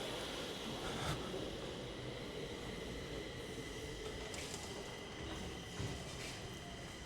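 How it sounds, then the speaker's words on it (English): A southbound Stockholm metro train arriving at Ängbyplan station, a steady low rumble of wheels on rails with faint squeals, heard from inside the station and holding for several seconds. "That southbound train coming in."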